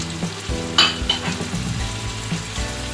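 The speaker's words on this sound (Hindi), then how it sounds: "ये सब चीज़ें डाल के हम इसे भून लेंगे।" Onions, tomato and spices fry in a pan with a steady sizzle, broken by a few clinks and scrapes of stirring.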